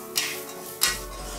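A spoon stirs garam masala and spices in a pan for Kerala-style beef fry, giving two brief, close scraping clinks over a soft steady background.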